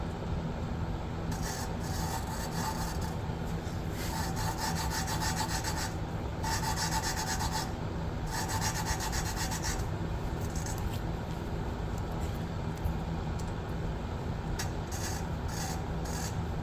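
An engine valve being lapped onto its seat in a Jeep XJ cylinder head, a rough grinding rasp that comes and goes in back-and-forth strokes, close and steady with no talk.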